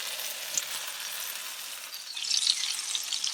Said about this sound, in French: Voilà la plancha avec mes petits morceaux de saucisse fumés.